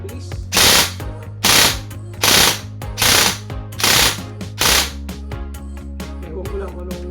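Airsoft gun fitted with an ASS MOSFET fires six rapid full-auto bursts in quick succession, each a sharp loud rattling volley, followed by a quieter mechanical hum and faint clicks.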